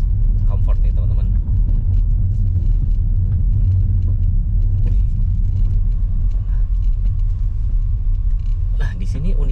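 A car driven in comfort mode with ESP switched off gives a steady low road rumble and engine drone throughout, with a person talking over it inside the cabin.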